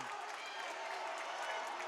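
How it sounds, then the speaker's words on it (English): A high school boys' basketball crowd in a gym roars and makes noise during a turnover, a faint, steady wash of cheering and clapping heard from a distance. "the Nipmuc crowd really making noise as the ball is going to be turned over on the 5-second violation"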